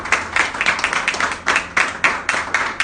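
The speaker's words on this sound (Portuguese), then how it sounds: "Dê uma salva de palmas ao Senhor em nome de Jesus." A church congregation clapping together in a quick, uneven rhythm, loud and near, a burst of hand claps with no talking.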